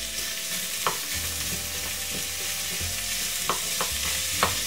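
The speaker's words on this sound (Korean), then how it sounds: "달군 팬에 들기름 2스푼 넣고 다진 마늘, 양파 넣고 볶아주세요." Minced garlic and onion stir-frying in perilla oil in a hot pan, an even, close sizzle with a few light spatula taps and scrapes spread across it.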